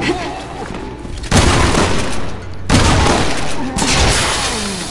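Video game gunfire and explosions during a Resident Evil 6 boss fight, with heavy booming blasts and rapid volleys coming in several loud bursts and a voice heard faintly underneath.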